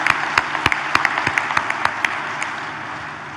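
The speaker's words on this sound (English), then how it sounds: "I think they deserve a huge round of applause for that." Scattered applause at the grand opening ceremony of a Safran factory in Hyderabad, sharp individual claps over a sparse crowd patter that fades toward the end, with no talk.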